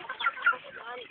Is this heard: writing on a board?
no